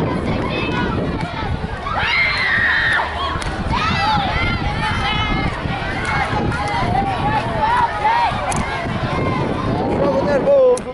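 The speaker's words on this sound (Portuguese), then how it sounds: "Torcida brasileira." Brazilian fans cheer loudly at an under-17 youth volleyball tournament match in Curitiba, with a continuous roar of crowd noise and shouting, while a commentator talks over it.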